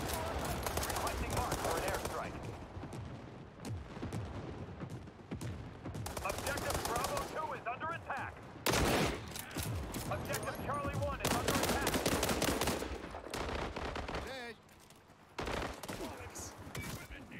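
Rifle gunfire in a video game, dense bursts of shots and rapid fire filling most of the clip with battle noise, under a voice talking at times.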